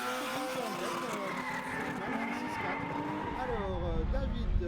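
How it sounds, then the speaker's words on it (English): Race cars, including a yellow Subaru, running a circuit at a French championship round at Val de Vienne, with a steady, loud engine drone and shifting pitch sweeps as cars pass and tires squeal throughout. "Delay in the yellow Subaru is a lot faster than Rose"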